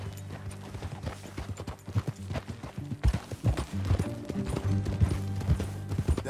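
Horse hooves clip-clop in a steady trotting rhythm throughout, close and clear, in the game Red Dead Redemption 2, with a low background hum and faint ambient sound beneath.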